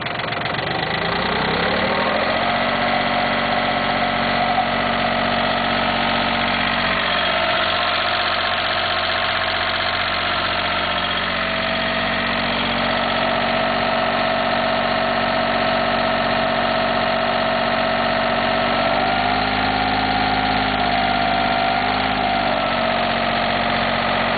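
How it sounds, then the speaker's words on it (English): Cub Cadet tractor engine running steadily at idle outdoors, a continuous mid-pitched drone with a slight rise in speed early on and minor shifts later. "I'm going to go ahead and idle this thing up, and we'll just stay there, sit out here and run for a while."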